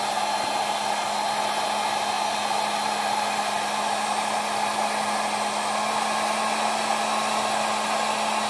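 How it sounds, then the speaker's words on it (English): A heat gun blows hot air onto holster material, a steady, even whirring rush with a low hum that holds constant throughout, close and fairly loud, with no talking. "kind of angling the heat gun upward so I don't transfer any of the heat to the lower part"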